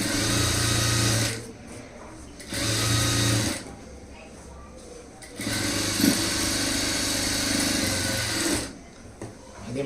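A sewing machine runs top stitching along a lined stone-model blouse in rapid whirring bursts, three or four runs separated by short pauses, loud and close.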